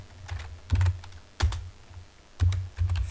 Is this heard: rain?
no